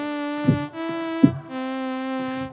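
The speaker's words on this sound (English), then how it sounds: "portamento slide blip on the beginning of the sound as the delay time changes with the slop" A sustained AS-4000 string machine synthesizer note with a brief portamento pitch-sliding blip at its onset from delay time slop, then a second note starting with a similar quick glide.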